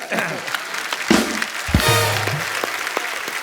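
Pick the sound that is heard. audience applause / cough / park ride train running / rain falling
audience applause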